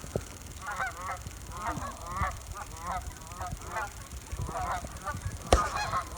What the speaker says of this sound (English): The turkeys are responding to the geese that are flying over.